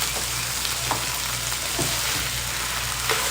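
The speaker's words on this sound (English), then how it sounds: "we're just going to saute it all together" Chicken and vegetables sautéing in a pan give a loud, continuous sizzle with a few faint stirring scrapes.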